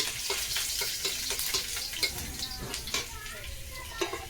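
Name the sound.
garlic frying in a pan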